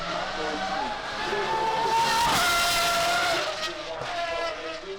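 Porsche 911 driving at the Goodwood Festival of Speed, its engine note rising and falling as it passes close by, loud and sustained for several seconds with a commentator talking over it.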